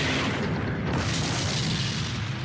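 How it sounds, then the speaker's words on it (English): An aircraft engine explosion on Qantas flight QF32 after departing Singapore, at about 7,000 feet, gives a loud, sustained, rumbling boom that fills the whole short stretch. "loud noises. It was like Boom, boom."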